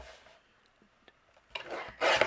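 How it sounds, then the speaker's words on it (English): A striped paper panel being trimmed for a handmade card, with quiet slicing and rasping cuts that grow louder near the end, ending in a loud burst of rubbing and scraping. "I'm going to trim down this panel."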